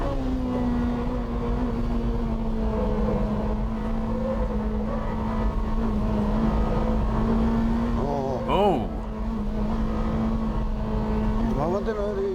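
A Honda Integra Type R DC5 runs through a banked corner, its engine holding a steady droning note with a couple of brief rising sweeps near the end, a voice faintly underneath.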